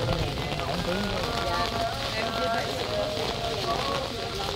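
Heavy rain pours at a graveyard in Vietnam, a dense continuous hiss of drops drumming on surfaces, with faint voices underneath.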